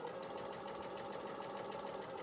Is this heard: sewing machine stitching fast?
yes